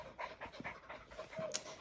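A 12-week-old puppy pants softly and quickly in a quiet room, close and faint, with a few light breathy puffs.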